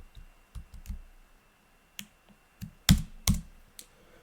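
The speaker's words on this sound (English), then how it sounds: "I'm going to type this out, then I will explain to you what I just did." Keys clack on a computer keyboard in short irregular bursts, with single taps and quick pairs separated by brief pauses, close and crisp with no talking.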